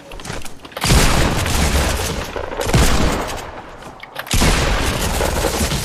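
Desert Eagle gunfire in the Fortnite video game: loud booming shots and explosive bursts in quick succession, with dense rumbling noise between them.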